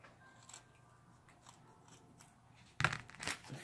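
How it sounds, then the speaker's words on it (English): Scissors cutting off extra felt for a Christmas craft project: after a quiet stretch, two close, crisp snips sound near the end, sharp and distinct against faint background noise. "but I'm going to cut off this extra"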